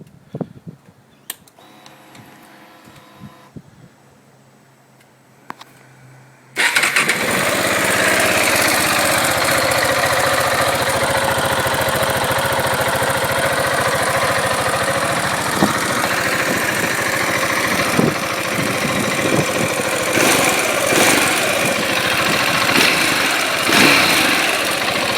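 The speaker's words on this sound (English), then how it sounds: "We all know this thing sounds like shit. Right. So we'll just have a quick listen to this." A KTM 690 Duke single-cylinder motorcycle on its stock exhaust fires up after a few quiet seconds of faint handling noise, then settles into a loud, steady idle with a rough, slightly uneven throb that runs to the end, close by.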